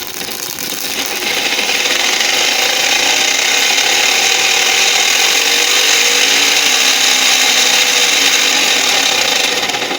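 A small DC motor runs steadily, giving a loud, even whir with a bright buzzing edge that holds for the whole stretch without any talking.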